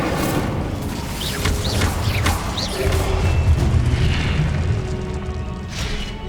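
Confringo, the explosive spell in Hogwarts Legacy, goes off as a dull booming blast over steady low rumble, with a few whooshing spell sounds layered through a dense battle din.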